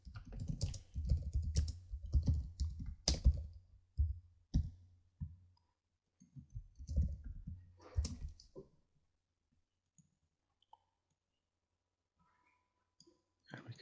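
Typing on a computer keyboard while designing a website header, a close flurry of quick key clicks in uneven bursts that thin out to occasional taps.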